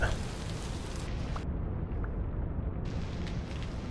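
Rain falls steadily in the survival game Vintage Story, a dense, even hiss of drops pattering without letup.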